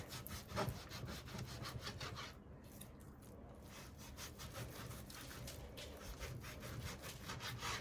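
A knife saws back and forth through pork belly burnt ends on a cutting board, a steady close rasping stroke repeating throughout with no talk.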